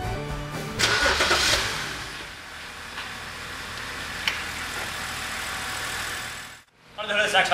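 A 2007 BMW X5 3.0si's inline 3-liter six-cylinder engine cranks and catches, then runs with a steady mid-pitched hum before briefly cutting out and restarting near the end.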